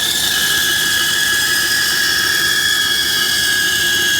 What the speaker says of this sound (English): we're going to cut these out on the bandsaw